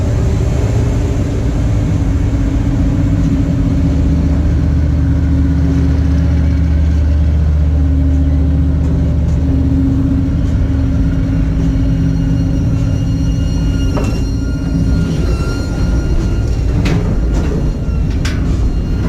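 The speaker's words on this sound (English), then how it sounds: "BNSF passenger service." A BNSF passenger train rumbling past on the Oregon Trunk line near Bend, Oregon, a loud, sustained low engine drone with shifting tones and rattling clanks as it goes by.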